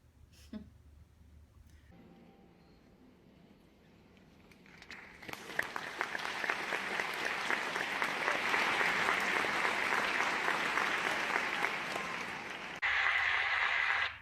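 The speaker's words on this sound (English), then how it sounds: "notice the applause after the demonstration" Convention audience at a Jehovah's Witness gathering breaks into applause after a demonstration, starting quiet and building into a broad, sustained clapping from a large crowd in a big hall, with a brief louder surge at the end.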